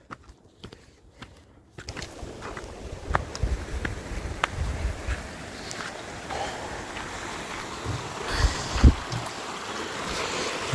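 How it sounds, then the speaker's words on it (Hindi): Glacier meltwater stream flowing high in the Spiti Valley mountains, a continuous rushing wash of water that swells after a quieter opening, with scattered knocks and wind buffeting the microphone. "कोई सोते से पानी आ रहा है ऊपर,"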